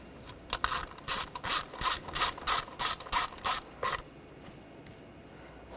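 Quick ratchet clicks as a screw holding an ignition coil is snugged down on a 2013-2019 Ford Escape, about a dozen even bursts at close range with no talk, then a pause.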